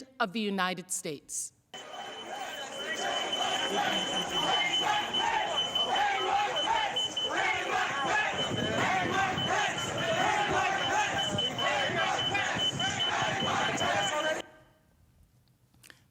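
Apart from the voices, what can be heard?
security alarm from the Capitol door, with the mob chanting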